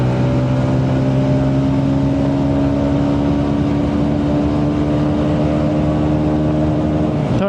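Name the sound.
TVS Ronin motorcycle accelerating through the gears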